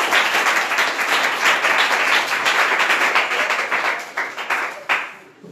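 A crowd claps and applauds steadily and loudly during a member of parliament's visit to a foundation, then the applause fades away over the last second.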